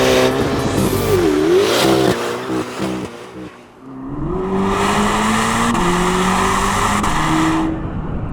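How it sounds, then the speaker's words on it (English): Chevrolet Corvette ZR1 with a flat-plane twin-turbo V8 driving hard, the engine note climbing through revs, a brief lift and dip, then pulling strongly again with a loud, close roar and some tire noise. "it doesn't sound like any Corvette I've ever driven."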